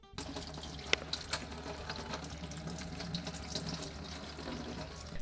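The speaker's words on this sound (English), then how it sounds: "Using a strainer, rinse the soaked sunflower seeds in clean water." Soaked sunflower seeds being rinsed in a strainer under a running kitchen tap, a steady close splashing stream of water with a few sharper drips and clinks, continuous throughout and without any talk.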